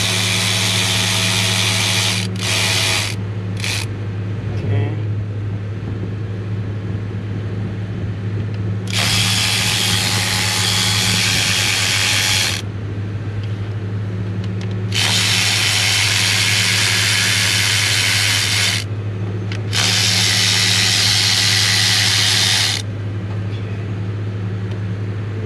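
Loud bursts of a power tool whine in stretches of several seconds as bolts come out of a 2003 Ford F450 6.0 diesel engine during fuel injector replacement, separated by short pauses over a steady low hum.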